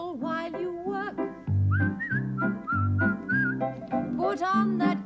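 A person whistles a bright, bouncy melody in clear, sustained notes over a backing of rhythmic instrumental accompaniment, loud and close.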